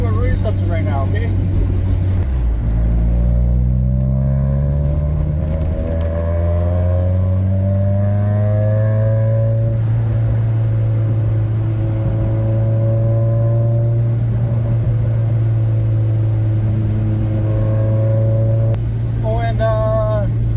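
An Acura Integra DC4 drives on the road, its engine a close, loud, steady drone whose harmonics climb and fall as it shifts through the revs for the full stretch.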